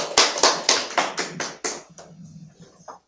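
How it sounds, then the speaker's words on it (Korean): A few scattered hand claps from a small panel-discussion audience at a policy debate on fake news, seven or so sharp separate claps in quick succession, then a faint low murmur and a last soft clap. "박수로 청하겠습니다."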